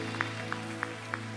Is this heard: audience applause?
yes